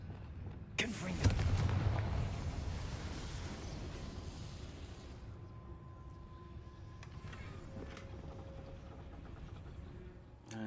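Confringo explosive spell blast in Hogwarts Legacy, a sudden loud crack followed by a rumbling burst that decays over several seconds into low game ambience.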